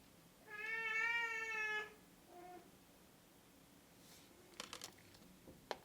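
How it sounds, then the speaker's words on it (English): A house cat gives one clear, drawn-out meow close by, followed by a short softer mew, then a few light clicks in a quiet room. "That is my cat."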